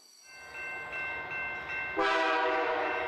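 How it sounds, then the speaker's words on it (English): A big orange freight train hauls a long line of colorful wagons past, its horn sounding in loud sustained blasts that swell to a louder final chord. "Here is a big orange freight train pulling lots of colorful carriages."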